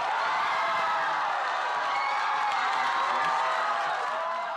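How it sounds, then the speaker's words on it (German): Supporters roar and cheer at the Greens' election party in Graz as the first projection comes in, a dense, steady wall of crowd noise with whoops and clapping lasting several seconds. "wir haben ja den unglaublichen Jubel bei der Wahlparty der Grünen bei der ersten Hochrechnung gesehen"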